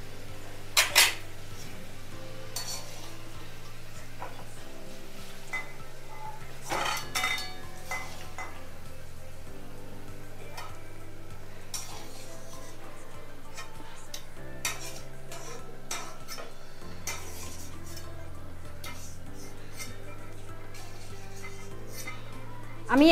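Pot and metal utensils clatter with intermittent clinks and scrapes as fried onions for mutton bhuna are taken off the stove, sharp knocks scattered over a steady low kitchen hum.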